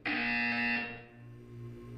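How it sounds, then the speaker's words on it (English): A harsh electronic buzzer from the Portal 2 video game sounds loudly for about a second and then fades into a lingering low hum. "You will hear a buzzer."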